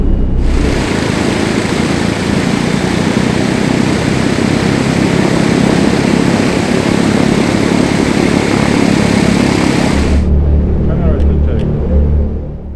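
Douglas DC-6 piston engines roar loudly and steadily through a ground run, a dense close-up drone that drops abruptly to a lower, throbbing idle rumble near the end.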